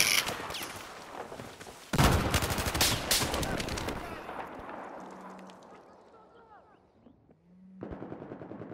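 Rapid automatic gunfire in a first-person shooter match using MG4 machine guns and claymores, loud bursts and dense shot volleys that thin out into scattered distant fire before another burst near the end.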